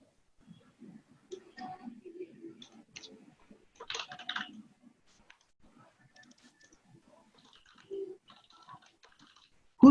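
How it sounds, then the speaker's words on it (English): Scattered keyboard typing during an online work meeting, light irregular clicks and taps at moderate distance, with faint murmurs of voices and a few louder knocks. "Who's typing away?"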